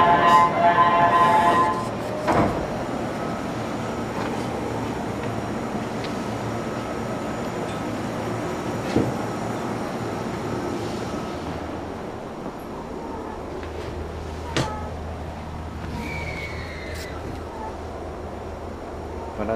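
A Shinano Railway 115 series train runs along the line, with a steady low rumble and clatter from the rails heard from on board, with occasional clunks and squeals and voices talking in the background.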